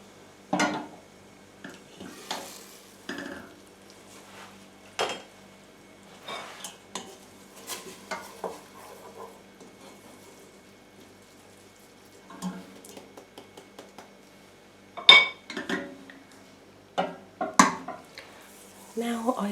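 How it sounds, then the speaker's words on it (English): Turmeric mixture stirred in a pan just lifted off the cooker, with spoon scrapes and clinks against the metal coming in scattered bursts, close and quiet, a few louder knocks near the end. "So let me just take it off the cooker and give it a little mix."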